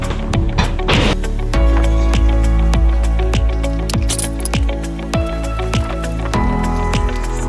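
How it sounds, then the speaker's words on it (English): A can of oil-based satin clear coat is stirred, giving a steady series of wet, squishing strokes that repeat in a regular rhythm close to the listener, with a constant low background hum. "Let's open her up and give it a quick stir."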